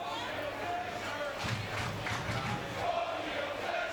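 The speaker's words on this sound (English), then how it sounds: "I hear the crowd is chanting for Fisher" Stadium crowd at a USL soccer match between Sounders FC 2 and Portland Timbers 2, chanting for a player in a steady, distant rhythmic roar, with a commentator speaking over it.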